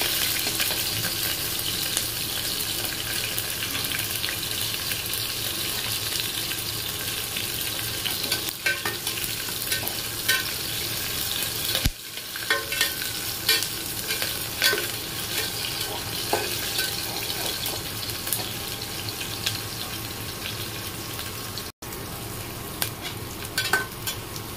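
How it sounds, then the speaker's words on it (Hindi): Garlic and chilli sautéing in a pan for spicy matar chaat, giving a steady, continuous sizzle with stirring scrapes throughout, loud and close with no talk. "सॉटे कर लेंगे।"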